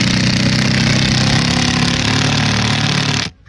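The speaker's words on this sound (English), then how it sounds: "pre-drill your hole, put the one in" A power drill pre-drills a hole through asphalt shingles into a roof rafter during a solar racking install, a loud, steady grinding whir that runs unbroken and then stops abruptly at the end.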